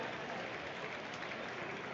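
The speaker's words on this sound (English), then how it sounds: "All right, another round of applause, folks." Steady applause from a crowd at an Asian Pacific Islander Heritage Month celebration, a dense continuous wash of clapping that holds evenly throughout at moderate volume, with no clear voices on top.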